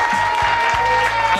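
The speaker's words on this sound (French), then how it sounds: "vous pouvez tous vous applaudir," A group claps together in a brief, steady burst of applause, fairly close and loud, with a steady tone running beneath it.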